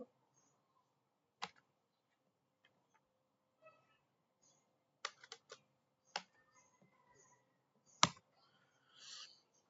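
Keys on a computer keyboard are tapped to enter a phone number, producing sparse, quiet, close clicks in small irregular clusters separated by near-silence.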